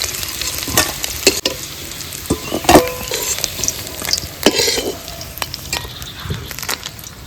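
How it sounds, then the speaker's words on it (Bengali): Fish frying in a pan for a Bengali village rain-day meal, a steady close sizzle and crackle with occasional sharp pops and clinks of stirring, no talking. "একটু করে ভেজে নিয়েছি মাছগুলো"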